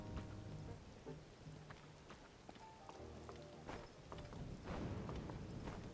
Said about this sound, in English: Ugh, rain.